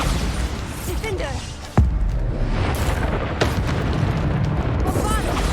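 Bombarda blast spells from Hogwarts Legacy go off in a loud, dense game battle, with one sharp boom standing out and others rumbling underneath, among continuous combat noise and a speaking voice.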